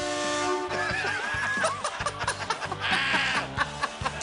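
A horn fitted to a custom illusionist chopper motorcycle honks in several bursts, loud and close, mixed with laughter and chuckling from people nearby.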